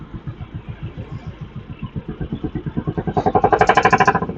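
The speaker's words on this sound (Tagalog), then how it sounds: "Ito pala yung naririnig ko yung truck." A truck engine passing close by on a road, its steady pulsing rumble building in loudness and rising in pitch as it draws nearer, with no talk over it.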